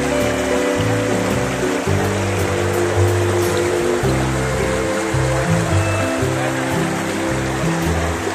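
A mountain river rushes and churns in a loud, continuous roar of flowing water close by, with a few muffled low tones mixed underneath.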